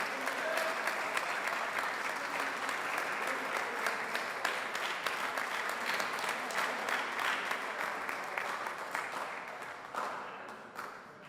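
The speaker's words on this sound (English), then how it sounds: "Ladies and gentlemen, how about another round of applause?" A room of attendees at a Board of Aldermen meeting claps in a sustained burst of applause that lasts about eleven seconds and fades slightly toward the end.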